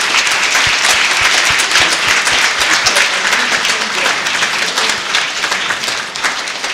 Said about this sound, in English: I would like you please to give a big round of applause to our expert witnesses.